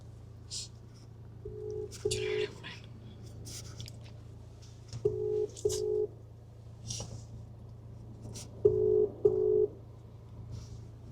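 A video call is being placed and has not yet started ringing, giving three pairs of short outgoing calling tones spaced evenly over a steady low hum, with faint scattered background noises in between.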